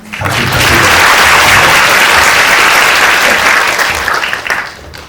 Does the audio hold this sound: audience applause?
yes